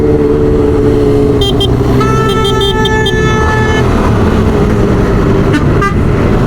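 Car horns honk repeatedly in short toots and a longer blare over loud, steady traffic and engine rumble in Diyarbakır, with no talking.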